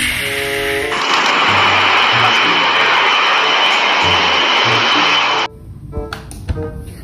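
A loud Air Force airplane engine roars steadily for several seconds, then drops away abruptly, leaving quieter rustling and scattered knocks.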